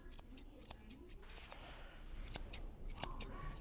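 Scissors trimming the ear hair of a dog, a quick series of crisp, close snips in small clusters with quiet gaps between, faint and with no talk.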